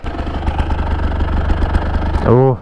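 A Husqvarna SM125 two-stroke supermoto motorcycle engine runs steadily at idle with a buzzy, rattling tone, then revs up sharply at the end, close by and loud.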